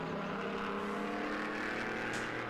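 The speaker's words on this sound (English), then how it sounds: "hearing the cars in the background going past the pit straight, some of them with engines on the rev limiters" Ford race cars roar along the pit straight at Silverstone during a race weekend, a continuous, somewhat distant engine drone with sustained high revs and no talk over it.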